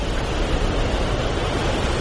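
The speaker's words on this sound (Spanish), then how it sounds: "por lo que las olas vagabundas rompen con una fuerza increíble." Rogue waves break in the open sea with a steady, dense roar of crashing water and surf that fills the whole moment without a pause, loud and close, with no voices.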